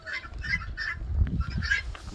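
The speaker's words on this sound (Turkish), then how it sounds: "Bunlar da saf beyaz Amerikan ördekleri ve siyah beyazlar." Pure white American ducks call in a farmyard flock, a series of about four raspy, honking quacks in an uneven rhythm over low background rumble, fairly close and moderately loud.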